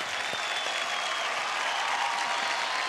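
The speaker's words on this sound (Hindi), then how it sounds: "रोहन के लिए एक बार जोरदार तालियां और टीम अरुणिता के लिए जोरदार तालियां।" Studio audience applause on a televised singing competition show, a dense, steady clapping that continues loud and unbroken throughout.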